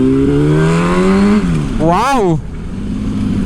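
A 2008 Yamaha R1 revs while being ridden, its engine pitch climbing and falling in a sharp swell mid-clip over a steady running drone, with a voice speaking briefly over it.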